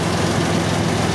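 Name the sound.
1997 Ford Ranger engine idling after revving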